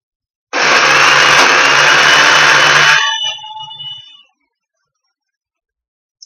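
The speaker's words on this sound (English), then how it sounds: "Put the cover back on and let it blend." A blender whirs hummus dip in a loud, steady burst lasting about two and a half seconds, then winds down and fades out, with a faint click at the end.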